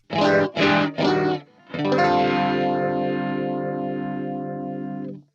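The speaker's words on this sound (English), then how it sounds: "load a different track preset. Here's Jimmy's Rhythm, and it will sound a little bit different than the other one" Electric guitar played through a DAW track preset with distortion and chorus effects: three short strummed chords, then one long ringing chord whose sweeping modulation wavers as it slowly fades.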